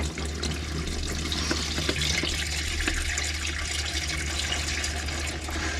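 Black, long-unchanged engine oil drains from a 2014 Mercedes B-Class into a pan, a steady continuous pouring, splashing flow heard close up and alone.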